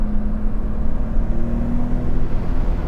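A 500 hp inline-six in a Nissan R32 Skyline with all-wheel drive drones loudly from inside the car, a steady low roar with a held tone that climbs slightly as it pulls.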